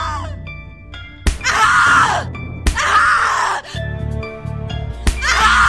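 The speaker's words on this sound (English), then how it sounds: "Your scream is like a poem" In The Cat Lady video game, a character lets out three long, loud, anguished screams, each set off by a sharp hit and separated by short pauses, over eerie tonal game music.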